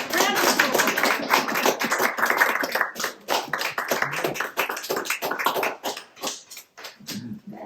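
Wedding guests clap for a newly married Australian-Indonesian couple at the end of the ceremony, scattered claps mixed with voices and chatter throughout.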